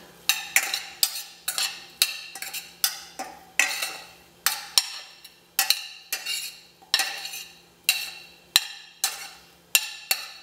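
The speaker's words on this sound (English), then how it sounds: "Go ahead and stir this all in." Close, dense metallic clinking of a spoon working breakfast burrito filling in a bowl, rapid irregular scrapes and taps repeating throughout with no voices.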